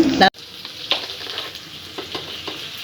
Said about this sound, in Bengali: ফুলকপি লাল লাল করে ভেজে নেব আলুগুলো লাল লাল করে ভেজে নেব